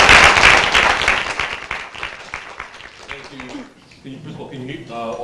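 An audience at Western bursts into loud, dense applause to welcome a speaker at a talk on defining antisemitism. The clapping fades within a few seconds, and a voice begins speaking.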